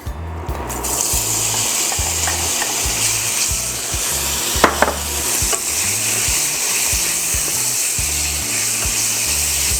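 Tuna chunks frying in a little oil for tuna sisig, a steady loud sizzle throughout with light stirring scrapes and a brief clatter midway.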